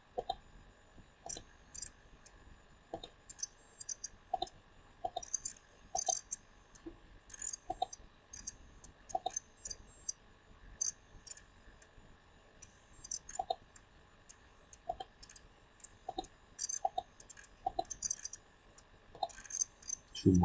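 A computer mouse clicking repeatedly while configuring disk volumes in Windows, sharp close clicks in irregular single and paired bursts over a quiet background.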